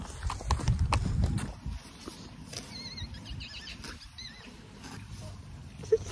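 A horse walks briskly, hooves clip-clopping in a quick patter that is loudest at the start and then fades to softer steps, with birds chirping in the background.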